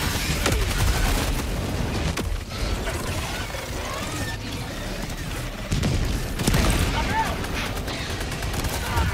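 Shotgun blasts and rapid gunfire in the video game Helldivers 2, loud and continuous, mixed with clanking mechanical ratchets and a voice talking over the fighting.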